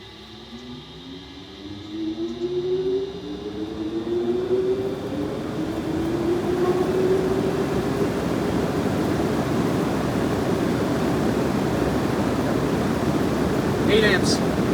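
A massive 1908 Davidson Ventilation Company 48-inch exhaust fan motor starts up, its hum rising in pitch as the blades spin up into a loud, steady rushing roar that holds to the end.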